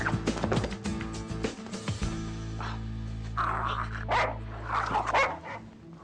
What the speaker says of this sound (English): I have to catch that dog.